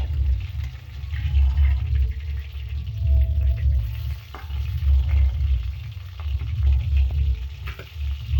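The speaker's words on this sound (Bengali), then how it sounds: "মাছগুলো আমি পিট পিট করে লাল লাল করে ভেজে নেব" Tilapia fish fry in hot oil with a steady, loud sizzling hiss and low bubbling rumble that swells and eases in waves, close up and unbroken, with no talking.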